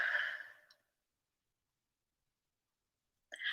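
A soft close breath during a mindfulness session, a short airy sigh at the start, then near silence until another faint breath begins at the very end.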